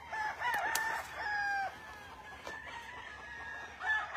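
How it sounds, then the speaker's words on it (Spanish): Roosters crow in long, drawn-out calls over a steady murmur of clucking hens and chicks filling a crowded farm enclosure, moderately distant. "Miren cómo está llena de gallos, lleno de pollos y lleno de pollas todavía."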